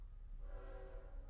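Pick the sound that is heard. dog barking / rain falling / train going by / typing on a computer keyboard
train going by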